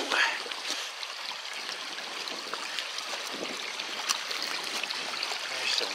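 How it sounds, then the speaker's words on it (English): Steady creek water flowing in the Northwest Territories wilderness, rushing and trickling continuously, a broad hiss with small splashy bursts, fairly close and even throughout. "Nice clean water coming down the creek."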